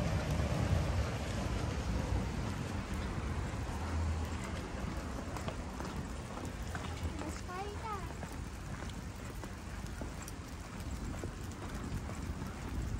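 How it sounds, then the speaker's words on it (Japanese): Rain falls at an outdoor baseball stadium during a high school baseball championship final in Gunma. It makes a steady, soft wash of hiss with wind rumble, and people talk nearby. "やべえ、雨が降ってきた。"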